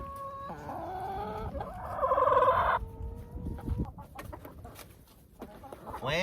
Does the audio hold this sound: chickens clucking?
yes